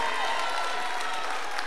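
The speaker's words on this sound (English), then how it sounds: "Somebody clap your hands like God's powerful." Dense, continuous hand clapping from a church congregation at a worship service, a brief, even burst of applause with faint voices mixed in.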